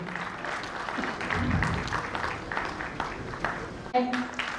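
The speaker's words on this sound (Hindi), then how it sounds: "तालियों की गूंज कम नहीं होनी चाहिए और लगातार बजती रहनी चाहिए" Audience applause at a book launch, steady and continuous clapping from a seated crowd with a brief voice or feedback burst near the end, sustained at moderate level throughout.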